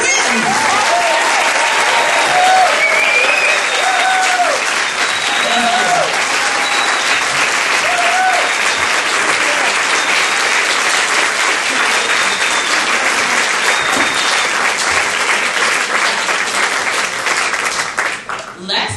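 Sustained applause fills a large audience hall at a women's summit in Northern Virginia, steady and loud for nearly twenty seconds with scattered voices and whoops woven through, tapering slightly at the very end.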